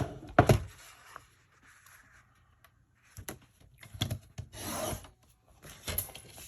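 Paper trimmed down for a scrapbook card, heard as a loud close cutting stroke at the start, then quiet, with scattered rubbing and sliding strokes later on and no talk.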